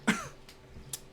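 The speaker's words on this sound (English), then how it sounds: "I coughed!" One short, sharp cough close to the microphone, followed by a couple of fainter throaty catches in a quiet room, with no speech.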